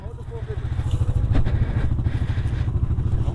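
A dirt bike engine runs steadily after a hot start, its close, loud, rapid thumping holding an even rhythm throughout.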